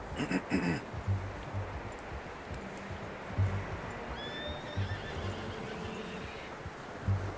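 A horse in the video game Red Dead Redemption 2 gives a short whinny near the start, followed by soft, scattered hoof thuds and quiet ambient rustle through the rest.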